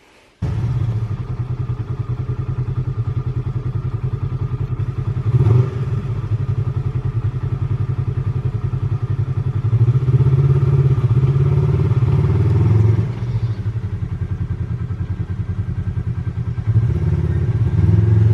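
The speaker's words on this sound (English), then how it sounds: "Just going through the gears after we installed the gear grabber shifter, making sure everything lines up, goes into every gear as advertised." Polaris RZR XP1000 side-by-side idling and running steadily while shifted through its gears with a newly installed Gear Grabber shifter, a loud continuous close engine drone with occasional clunks and small shifts in pitch as gears engage.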